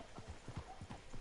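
Horse hooves clip-clop steadily in Red Dead Redemption II, a quick, even rhythm of close, muffled thuds with a light background hiss and no speech.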